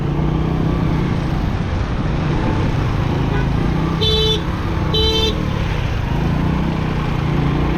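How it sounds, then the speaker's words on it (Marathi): A traffic jam rumbles with steady engine and road noise, and a car horn sounds two short toots about a second apart. "लई ट्रॅफिक जाम झालं"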